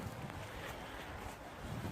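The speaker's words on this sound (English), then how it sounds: "It's getting windy as well" Wind buffeting across the microphone beside Hollingworth Lake, a steady low rumbling gust with no voices.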